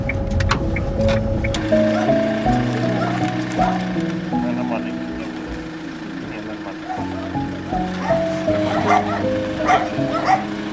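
A dog barks and whimpers during a wartime evacuation of children from a village under drone attack, with yips and whines scattered over steady background noise and nearby voices talking.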